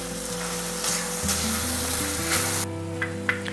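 Masala for a Hyderabadi paneer curry cooks in oil until the oil separates, producing a loud, continuous close sizzle with crackling spits, which drops away abruptly near the end, with no voices.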